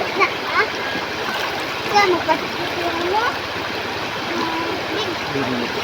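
Splashing river water as people bathe in a river, irregular near splashes and trickling under a broad stream wash, with talk and voices throughout.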